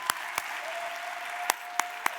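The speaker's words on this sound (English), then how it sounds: "Let's give them another round of applause." Applause from a festival audience at a Festival of Lights event in Los Angeles, a steady wash of clapping with a few loud, sharp claps standing out close by.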